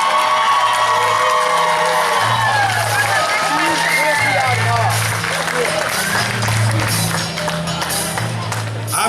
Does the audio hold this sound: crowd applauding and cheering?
yes